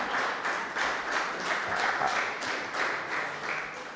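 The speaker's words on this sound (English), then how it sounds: "Can we clap hands for him?" An audience at a national workshop in Lilongwe, Malawi claps hands in steady rhythmic bursts for about four seconds, moderately loud and without any speech over it.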